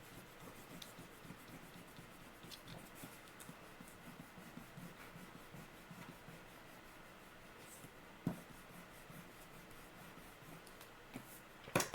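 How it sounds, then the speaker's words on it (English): Pencil lines rubbed away with an eraser on paper during a clover drawing, a faint dry scratching and rubbing that continues in short strokes, ending with a few louder taps. "we can erase those pencil lines just to get them out of the way"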